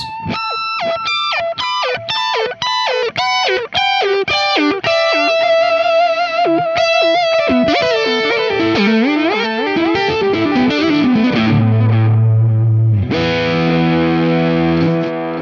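Electric guitar through a Marshall amp with a whammy pedal and delay, rapid repeating high notes that slide and dive in pitch, then a low swooping bend and sustained chords, loud and distorted with echoing repeats, no talking.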